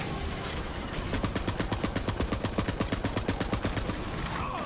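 Rapid rifle fire from the shooter game Borderlands 3 rattles off in an even stream of sharp, evenly spaced shots for a few seconds, moderately quiet and mixed over a busy game soundscape.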